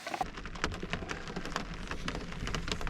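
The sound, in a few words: rain falling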